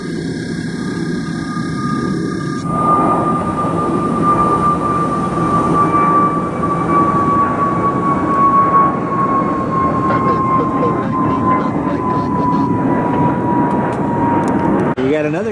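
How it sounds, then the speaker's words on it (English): A Gulfstream business jet landing on runway 6 right at Cleveland, a loud steady roar with a high whining tone that slowly drops in pitch over fifteen seconds, heard close and continuously. "Got another Gulfstream landing on 6 right."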